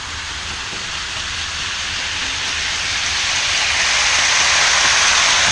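A Menards Santa Fe model locomotive running at full throttle on 18 volts, giving a steady, loud hiss and whir of motor and wheels that grows slowly louder over the seconds, with no voices.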